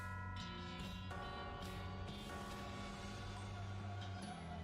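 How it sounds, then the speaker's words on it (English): Eerie bells ring in the West of Loathing video game, a faint cluster of overlapping metallic strikes whose sustained tones hang and blend, new tolls landing every half second or so. "As the eerie sound of the bells fades away"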